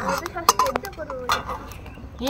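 Khichuri cooking in a kadai, with metal spoon scrapes and clinks against the pan and a faint sizzle, heard close while people talk.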